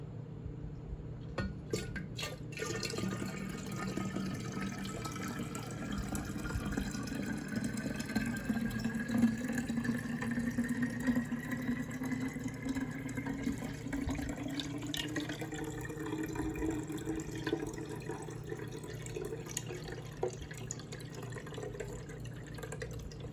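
Drinking water pouring steadily into bottles, a continuous close splashing and trickling stream with a slowly rising pitch as each bottle fills, lasting over twenty seconds with no talking.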